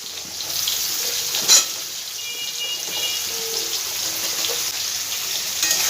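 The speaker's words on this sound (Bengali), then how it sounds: "আলুটা আমার একটু ভাজা ভাজা হয়ে গেছে। এই পর্যায়ে আমি পটলগুলো সব দিয়ে দেবো।" Potatoes frying in a pan, with pointed gourd added, make a steady, close hiss of oil, with a single sharp knock partway through and no talking.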